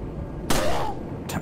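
A gunshot in Resident Evil 4 on PS2 bursts out sharply as a single loud crack over steady game background noise, followed by a second, fainter shot near the end.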